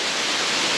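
A waterfall in the Southern Forests of Western Australia, heard from its base as a loud, steady, broadband roar of falling water that fills the short moment evenly, with no voices.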